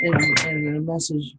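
A mobile phone notification chimes briefly, a couple of short high tones cutting in over someone speaking close to the mic.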